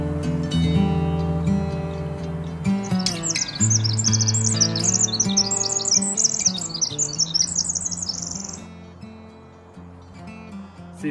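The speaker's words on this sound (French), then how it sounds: "Ces chants d'oiseaux nous changent de la circulation de Port Alberni" Birdsong near a forest lake in Canada: bright, busy chirps and trills layered over one another for most of the span, fairly close and loud over a steady low background hum, thinning out near the end.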